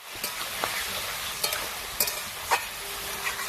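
Curry with sour yogurt fries gently in a pan, a soft low sizzle under a few scattered scrapes and taps of a spoon stirring, fairly quiet and close, with no voices.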